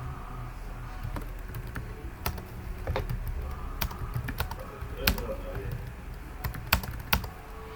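Computer keyboard keys typed in scattered, irregular clicks while a prompt is entered, fairly close and moderately quiet over a low background hum.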